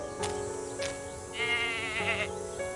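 Goat bleating in the Agatha Christie And Then There Were None PC game, a few nasal, wavering bleats in quick succession, the last one longer and higher, close and moderately loud.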